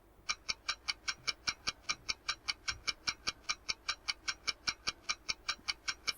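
A quiz-show countdown clock ticks at a steady, even pace, crisp and fairly quiet, with no voices over it.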